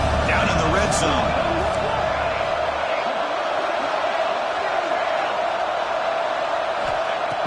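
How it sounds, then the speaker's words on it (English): A football stadium crowd roars steadily to rally the defense in the red zone. The loud, continuous wash of noise fills the whole moment while a commentator talks over it. "the crowd coming to life here trying to help this defense down in the red zone"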